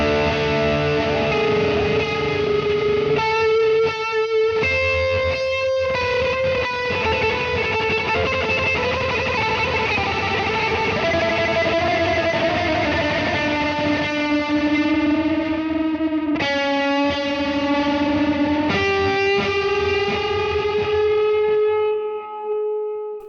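Distorted electric guitar played through a Fractal Audio Axe FX III, with the delay placed before the distortion, so the repeats smear into the gain; sustained notes and chords ring continuously and loud with no talking.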